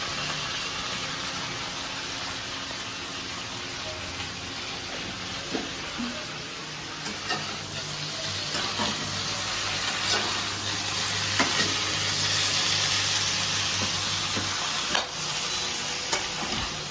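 Potato and cauliflower fry with turmeric in hot oil, stirred steadily, giving a continuous loud sizzle broken by occasional scraping knocks of the spoon against the pan.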